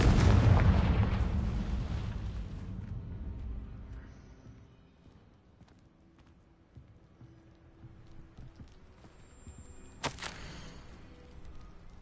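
A Confringo fire spell explodes in Hogwarts Legacy with a loud, booming blast that fades over several seconds, followed by quieter game ambience and one sharp crackling burst near the end.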